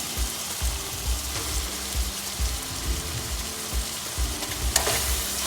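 Pasta tossed into a hot pan on a stove at medium-high heat, giving a steady close sizzle with soft repeated stirring and tossing scrapes throughout, no voices.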